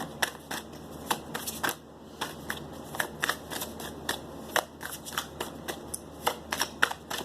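Tarot cards being shuffled and drawn, a close run of crisp, irregular flicks and slaps of card stock with brief pauses between bursts, heard alone without talk.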